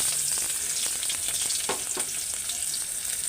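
A bay leaf drops into hot oil in a home kitchen and sizzles steadily, with crackling pops and occasional stirring scrapes in a close, continuous fry.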